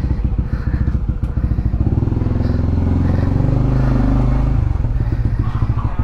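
A motorcycle rides along a small village road, its engine chugging close and loud in a steady pulsing rhythm, the note swelling briefly midway before settling back with some clattering.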